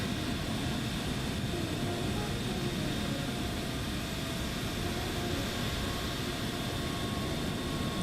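An airliner takes off on a low-visibility day, its engines producing a steady, broad, continuous roar that holds at moderate loudness throughout, with no voices.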